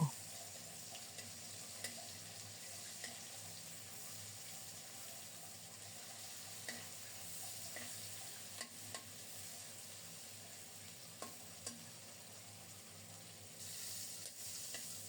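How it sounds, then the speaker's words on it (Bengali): Shrimp fry in hot mustard oil in a wok with a quiet, even sizzle, marked by faint clicks and taps as they are turned, with no voices. "উল্টে পাল্টে চিংড়ি মাছগুলো ভেজে নেব"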